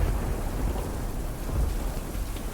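Heavy rain pours and thunder rumbles in a cold-weather storm scene of an animated Hindi moral story, a dense, continuous hiss of falling water over a low rolling growl, loud and unbroken.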